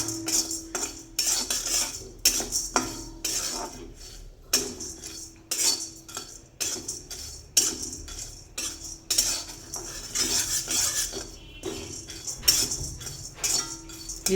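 Lentils and rice dry-roast in a pan while a metal spoon stirs them, giving repeated close scraping and clinking strokes in an uneven rhythm with no talking.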